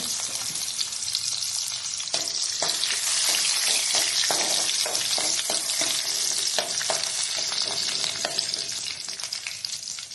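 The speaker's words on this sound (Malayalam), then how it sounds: "ഇങ്ങനെ വെളുത്തുള്ളി മൂത്ത് വരുമ്പോൾ നമുക്ക് ഒരു പച്ചമുളക് നമുക്ക് കീറിയിടാണ്" Garlic and slit green chilli fry in hot oil with a loud, dense sizzle and crackle, stirred now and then with soft scraping, steady and close throughout with no voices.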